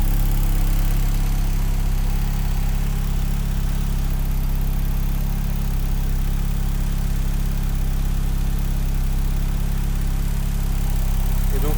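A car engine drones loudly and steadily at close range on a dynamometer, running E85 at maximum boost, a constant low roar without pauses or speech.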